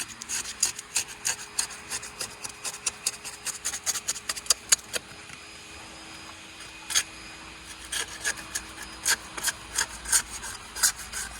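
Old wavy window glass is scrubbed by hand in quick rhythmic strokes, each pass a short gritty rub, with brief pauses between bursts and no talk.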